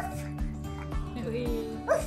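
A person imitates a dog barking with a voice, giving several short, rhythmic woof-like bursts close to the microphone, mixed with other talk in a home setting.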